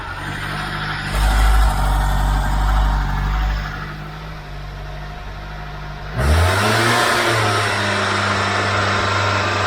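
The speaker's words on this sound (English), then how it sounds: "Gonna give it a rev." A Ford Cortina Mk5 1.6 GL engine idles steadily, then is revved twice, the pitch rising and settling back before a second sharp rev near the end, loud and close with no talking.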